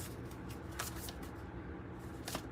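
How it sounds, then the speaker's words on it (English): Tarot cards are shuffled by hand in a soft, continuous riffling rustle with a few crisper flicks, close and fairly quiet, without talk. "let me concentrate on my shuffling here"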